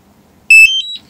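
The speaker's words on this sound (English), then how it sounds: "So you hear that beep, so that means the controller is on" DJI Mavic Mini remote controller powering on: a short sequence of sharp electronic beeps, a bright tone followed by two quick stepped lower chirps, loud and close in an otherwise quiet room.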